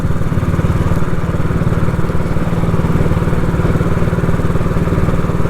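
An old Royal Enfield motorcycle engine thrums loudly and steadily while riding, a close, continuous mechanical drone with rapid firing pulses and no speech.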